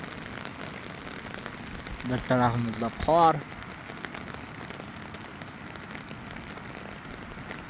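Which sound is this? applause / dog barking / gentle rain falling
gentle rain falling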